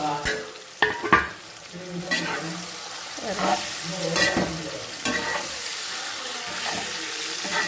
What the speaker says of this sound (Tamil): இப்போ நாம் வதக்கி வச்சுருக்கிற அந்த பாகற்காயையே எடுத்து அதோடு போட்டுக்கோங்க